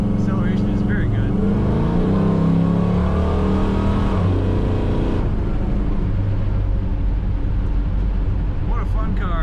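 A restored 1962 Chevrolet wagon accelerating, its engine note climbing through the gears, loud and close. The pitch drops abruptly midway as it shifts, then it settles into a steady cruising drone.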